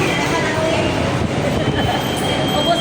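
Busy MRT metro station ambience at Cubao, with a continuous rumbling rail and crowd din and faint squeals, while people talk nearby.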